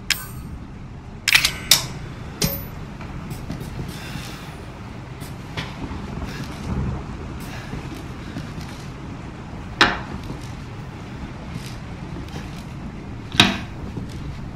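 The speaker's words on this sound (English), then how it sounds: "There's always a sound in here. That click sound." Sharp, isolated clicks ring out now and then over a low, steady rumbling drone, with a few louder snaps spaced several seconds apart, in the video game Resident Evil 7.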